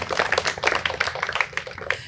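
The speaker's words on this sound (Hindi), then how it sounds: "जोरदार तालियां" A crowd at a Buddhist vihara in Nagpur claps for a correct quiz answer, a dense, brisk patter of hand claps filling the whole moment.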